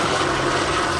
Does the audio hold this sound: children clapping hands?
no